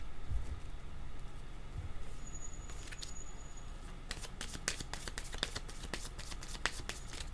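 A card is pulled from a deck, with soft rustling at first, then a dense run of crisp flicks and ticks near the end, close and steady, with no voices.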